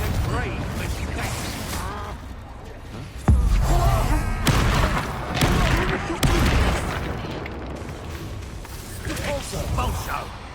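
Bombarda spell explosions in the Hogwarts Legacy video game: deep booming blasts with whooshing bursts, a strong hit near three seconds and another around six, mixed in a busy game soundscape under ongoing speech.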